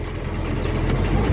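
A 6480 tractor engine runs steadily at an easy, unstrained pace, a constant low rumbling drone heard close by with no voices.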